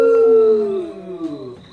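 Dogs howling up close, a long loud wavering howl that slides downward and fades, with a second voice briefly joining near the end.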